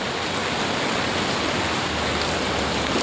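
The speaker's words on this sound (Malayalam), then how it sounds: "ഇതാ മഴ പെയ്തുകൊണ്ടിരിക്കുന്നു." Rain pours steadily on a Mumbai street, a dense, even hiss of drops close by with no voices over it.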